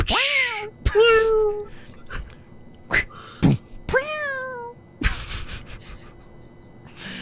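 A cat meows repeatedly in the video game Hustle Cat, several clear, close, rising and falling cries spread across the stretch, with people talking and laughing around them.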